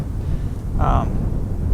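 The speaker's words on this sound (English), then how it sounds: "It's kind of windy now" Steady low wind rumble buffets the microphone on a ridge during an elk hunt, with a brief higher tonal sound partway through.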